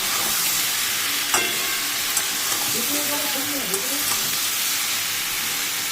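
Fish head chorchori with turmeric sizzles and fries steadily in a pan, with a few soft scrapes as it is stirred, close and continuous with no talk.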